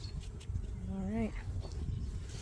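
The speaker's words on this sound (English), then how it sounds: "Three frames of bees." Honey bees on hive frames during a spring colony inspection, a faint, steady buzz with a brief rising whistle-like tone and quiet voices nearby.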